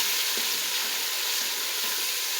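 Spices, green chillies and turmeric sizzling in oil in a pan while dal is prepared, a steady close hiss of frying with faint soft stirring taps, no voices.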